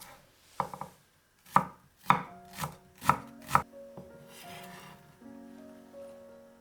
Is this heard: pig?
no